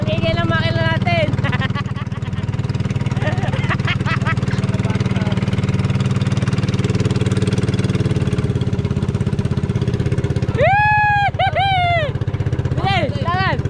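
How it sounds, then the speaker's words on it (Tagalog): Boat engine droning loudly and steadily on a fishing-net trip across a strong current, a constant close rumble running the whole time beneath someone talking and brief whistle-like tones. "Ang ingay ng makina natin."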